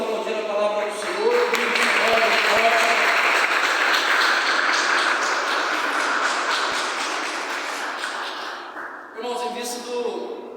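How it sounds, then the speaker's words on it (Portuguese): A church congregation applauds together, a dense, steady wash of clapping that holds for most of the stretch before tapering off as voices return near the end. "Vamos aplaudir a palavra do Senhor"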